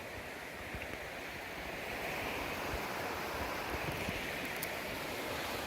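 River water rushes steadily at a trail river crossing, a broad continuous wash of flow heard close, mixed with some wind noise.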